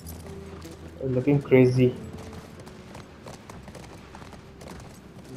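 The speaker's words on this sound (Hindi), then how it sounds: "थोड़ा धीरे दौड़ रहा है घोड़ा, और थोड़ा सा दौड़।" Horse hooves clatter in a short quick burst near the middle while a horse runs through a wooded environment in The Last of Us Part 1, over steady game ambience, with someone speaking briefly.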